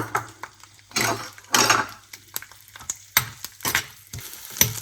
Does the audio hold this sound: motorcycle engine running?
no